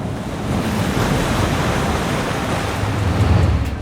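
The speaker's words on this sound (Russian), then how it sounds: "Ветер такой, что слезы из глаз текут и приходится щуриться." Strong seaside wind roars in a steady broadband rush with surf mixed in, loud and close, buffeting the microphone throughout with no voices.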